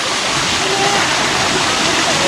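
Natural waterfall in Kengtung, a steady, loud, close rushing roar of falling water with broad, even hiss and no breaks.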